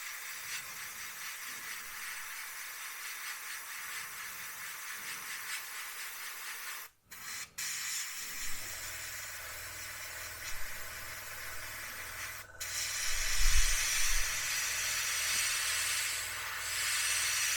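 Airbrush spraying Tamiya XF71 interior cockpit green paint onto a 1/48 Airfix Bristol Blenheim Mk1 model kit, a steady hiss with brief breaks and a stronger airy burst toward the end.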